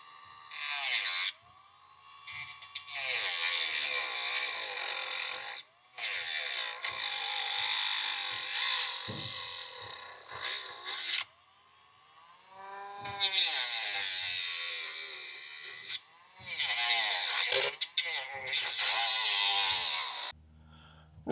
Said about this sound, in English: I'm going to use a Dremel and just cut it open.